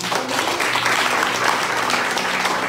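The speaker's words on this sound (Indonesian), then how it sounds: "Tepuk tangan dulu buat Tuhan." A church congregation at a Christmas service claps together in thick, continuous applause, loud and close for the whole stretch.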